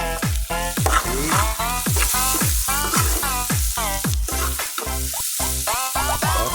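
Onions sautéing in a pan for Filipino ginisang pechay give a steady, close sizzle throughout, heard beneath loud background music with sweeping tones.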